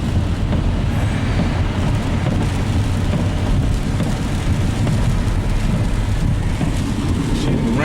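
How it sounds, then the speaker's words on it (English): Steady rain in Chicago near a freeway, a dense continuous hiss with low rumbling underneath, unbroken and fairly loud, no talking. "Rain slows the shooting down."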